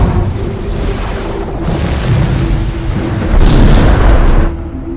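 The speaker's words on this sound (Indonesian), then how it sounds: "dengan perintah yang diberikan oleh Hendrix, akhirnya Kapten langsung meluncurkan satu bom nuklir." A film sound effect of a nuclear bomb launch: a loud, continuous roaring rumble that swells near the end before easing off, heard alone without voices.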